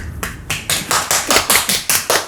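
A handful of people clap in a steady rhythm of about nine sharp, evenly spaced claps, close by and with no talking over them. It sounds like a family or small group applauding at home.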